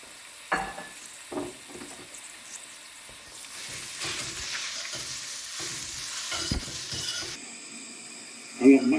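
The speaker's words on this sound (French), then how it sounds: "Je vais y faire tomber les oignons." Onions fry in a pan, a soft sizzle with scattered stirring knocks, rising to a brighter, louder hiss near the end, while someone speaks intermittently over it.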